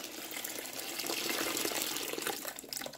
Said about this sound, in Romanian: Mai turnăm apă fierbinte,